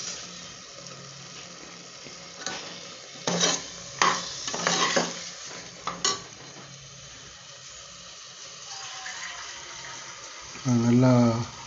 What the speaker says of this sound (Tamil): நல்லா மிக்ஸ் பண்ணி வதங்கட்டும்.